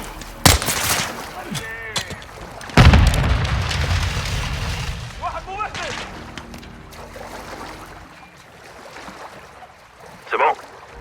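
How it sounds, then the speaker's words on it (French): Grenades bursting in water in the Call of Duty: Modern Warfare 2 video game, two loud booms with heavy low rumble and splashing wash, amid gunfire and ambient battle noise with a voice talking. "Ils envoient des grenades dans l'eau."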